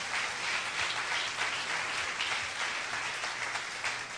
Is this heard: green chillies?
no